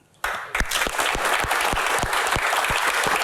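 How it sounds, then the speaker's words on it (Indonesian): An audience at a comedy Q&A breaks into sudden, sustained applause for Indro of Warkop, a loud continuous wash of clapping with a few sharper claps up front. "Tepuk tangan buat Mas Indro sekali lagi"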